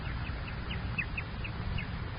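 Bird sound effect in an old-time radio drama: a series of small, chirping calls repeats at a quick, uneven rhythm over a steady low background hum, moderately faint and with no talking.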